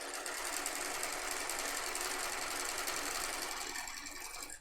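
A sewing machine fitted with a quarter-inch foot stitches knit fabric for a hair scrunchie, giving a steady fast mechanical whirr and rapid needle chatter that runs without a break, close and fairly quiet.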